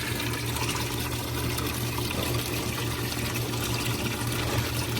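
Water runs steadily into a side-yard drain system fitted with a float switch and sump pump line, a continuous close trickling and gushing flow with no talk.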